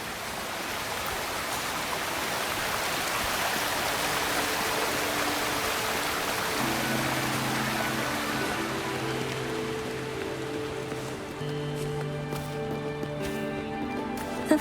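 Waterfall in the video game Wuthering Waves, a steady broadband rush of falling water that is loud and constant, with soft tonal game music fading in under it partway through.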